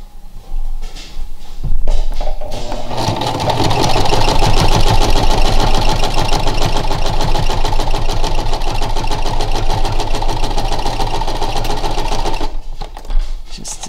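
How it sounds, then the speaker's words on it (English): A sewing machine stitches across fabric and then does a short reverse stitch, its needle hammering in a fast, steady, loud rhythm for about ten seconds before stopping, with a few clicks before and after. "Just did a little reverse stitch at the end"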